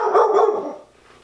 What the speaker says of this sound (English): We have a dog that's a professional barker.